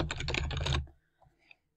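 Rapid keystrokes on a computer keyboard in a quiet room, a brisk burst of close typing that stops abruptly, then a couple of faint clicks.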